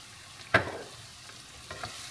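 A spoon stirs tomato passata through a mixture in a hot pan for moussaka, with one sharp scrape or knock early on, then quieter scrapes over a soft sizzle.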